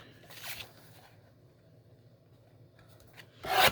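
Paper being trimmed to a 4 by 6 size for a journal card: a brief scraping cut near the start, quiet handling in between, then a louder, close rasping slice at the end.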